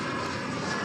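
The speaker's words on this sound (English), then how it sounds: "Here comes American Eagle 3360 from Lafayette, Louisiana. It's an Embraer 175." An American Eagle Embraer 175 regional jet arriving at Dallas Fort Worth Airport on a summer morning, heard as a steady, broad engine roar that stays loud and even through a very short moment, with no voices.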